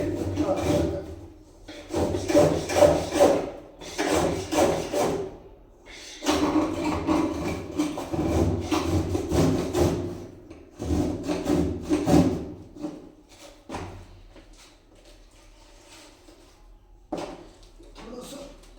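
Hand saw cutting through wood in a homemade cold-weather fix, with repeated back-and-forth rasping strokes in uneven bursts and pauses, moderately close, alongside some speech.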